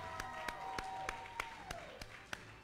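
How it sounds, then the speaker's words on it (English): A church congregation claps in praise for its 2020 graduates, with distinct rhythmic hand claps landing at an even beat under a sustained, slowly falling voice, fairly faint overall. "Let's give it another hand clap of praise for our graduates."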